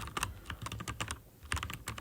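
Keys clatter on a computer keyboard during a Kali Linux terminal session, a quick irregular run of close, crisp taps with brief pauses between bursts.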